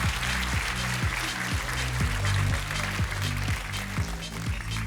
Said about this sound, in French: Applaudissez-le encore un petit coup